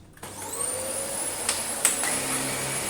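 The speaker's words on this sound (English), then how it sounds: "Can't say it's perhaps the most, the best vacuum for the job, but while we're here, let's see if it runs and how it runs." A vacuum cleaner switches on in a church and runs with a steady, high whine and a couple of brief knocks, close and loud with no talking.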